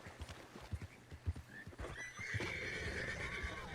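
A horse neighs and whinnies loudly in Red Dead Redemption 2 near crocodiles, with clip-clop hoofbeats first and then a long, strained whinny close by.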